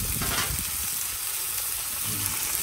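Thin marinated meat sizzles on a new flat top grill, giving a steady, loud, broadband crackle and hiss that runs without a break. No one talks over it.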